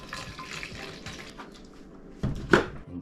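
Distilled water poured into a container to mix a slip solution for installing paint protection film on a 2023 Tesla Model Y, a short close trickle and splash with a brief louder gush near the end.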